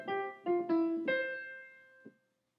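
A short piano lick: a few quick bright chords struck in succession, the last one ringing out and fading, played alone and close.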